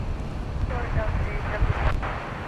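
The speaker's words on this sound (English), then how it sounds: "It's a nice strong gust." A strong gust of wind buffets the microphone at an airport with a steady rumbling roar, while people talk over it.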